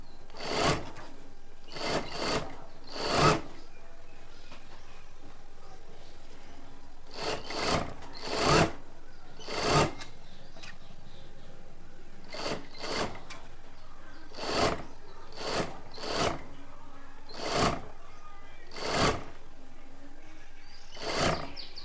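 A domestic sewing machine stitches a simple blouse, running in short, sharp bursts that repeat at uneven intervals, close and fairly loud, with quiet gaps between runs and no talk.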